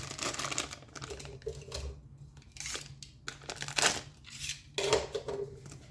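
Crinkly rustling and tearing of the sealed plastic packaging of a WinAPEX 268B clamp meter, close by, in several bursts with short pauses between them.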